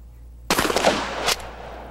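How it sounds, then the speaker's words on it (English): A single shotgun blast firing a rifled slug at a 50-yard range: one loud, sharp report with a brief rolling tail, followed by a second smaller crack about a second later. "Here's what happens when you fire a rifled slug at 50 yards."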